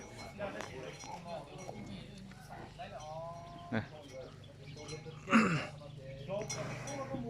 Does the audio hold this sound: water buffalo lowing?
yes